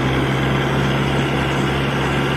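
Kubota MU4501 tractor working a thresher, its diesel engine holding a loud, steady, dense drone close by under added throttle load, with no clear rise in pitch and no talking.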